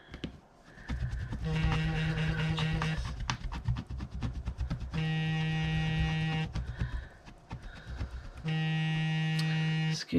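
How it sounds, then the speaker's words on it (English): A mobile phone rings for a suspected spam call in a home crafting space, its electronic buzzing tone repeating in three loud bursts separated by brief pauses, with rustling and light handling noises between. "Excuse my phone making that racket."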